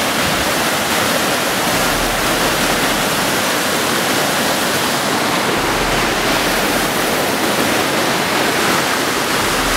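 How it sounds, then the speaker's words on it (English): A waterfall roars continuously, a dense, steady rush of falling water with no breaks and no voices. "We've stopped this nice little waterfall."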